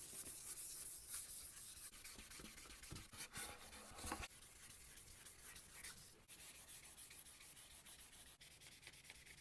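Fine 3000-grit sandpaper is rubbed over a painted guitar body, a faint, soft scratchy rasp in continuous back-and-forth strokes with small dips between passes.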